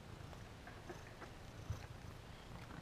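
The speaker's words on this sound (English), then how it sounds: "We got the big purr." A soft, steady low rumble of a cat purring close by, continuous and fairly quiet beneath faint background noise.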